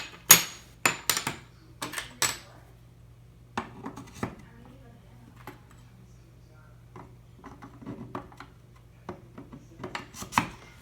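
Knife blade drawn in straight up-and-down strokes on a fine Sharpmaker ceramic stone set at 30 degrees, giving a series of sharp scraping clicks in quick bursts, close and fairly loud, with pauses between groups of strokes over a low steady hum.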